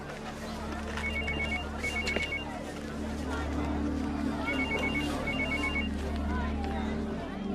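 A telephone rings on an outgoing call, with repeated paired electronic ring bursts heard at a moderate level over a constant low background hum.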